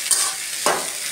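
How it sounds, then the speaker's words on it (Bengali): Onion frying with nigella seeds in a pan, a brief close sizzling hiss with a quick stirring scrape partway through. "কালিজিরা চম্বাস দিয়ে পেঁয়াজ ভাজা হইতাছে"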